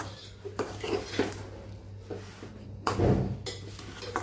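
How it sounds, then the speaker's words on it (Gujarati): Sesame seeds are stirred into hot sugar syrup in a kadai with the gas turned off, for til chikki. Intermittent scraping and metallic clinks of a spoon against the pan come close and moderately loud, with brief pauses between strokes. "હવે આપણે તલને અંદર મિક્સ કરી દેવાના છે એકદમ સરસ આપણે તલ મિક્સ કરી દઈશું"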